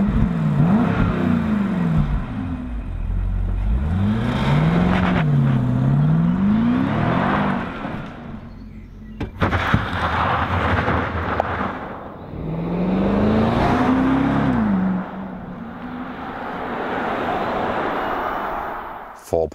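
BMW X5 M50i with its V8 engine accelerating hard, the engine note rising and falling through several gear changes, loud and close, with brief talk in between.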